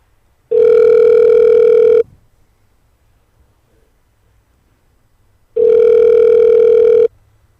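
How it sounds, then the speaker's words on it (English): A telephone ringback tone heard down a phone line during a call from a radio studio: two long, steady electronic rings, each about one and a half seconds, separated by a few seconds of near silence, fairly loud and alone. "All right, it's ringing."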